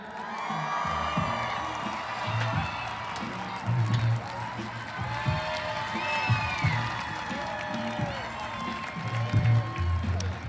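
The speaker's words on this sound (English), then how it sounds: "Give a round of applause for Josh Smith." Crowd at a Texas Rangers baseball fan fest Q&A cheers, whoops and claps for a player being introduced, a lively, fairly close mix of shouts and applause with voices rising throughout.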